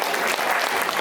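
An audience at a Gujarati community Diwali cultural performance in a Munich hall breaks into dense, continuous applause, a close, even wash of many hands with a faint voice underneath.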